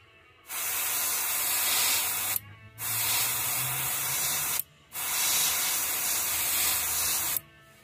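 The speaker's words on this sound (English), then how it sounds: "Then we're just going to spray that right there." Three long bursts of paint spray hiss on a bluegill fishing lure, each lasting about two seconds with short gaps between, loud and close.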